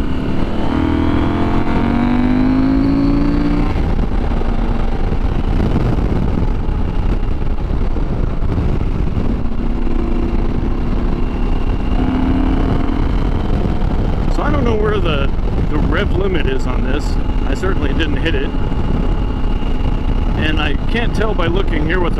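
CF Moto Ibex motorcycle engine revving hard and pulling up toward a 10,000 RPM redline, a loud continuous drone with rising pitch sweeps and wind rush, with someone talking over it.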